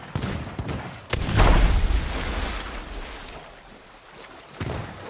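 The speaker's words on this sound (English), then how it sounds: "What was that explosion?" An explosion in the pirate video game Sea of Thieves: a sudden heavy boom with a rumbling low roar that swells and slowly fades into watery, surf-like noise, followed by a smaller thump near the end.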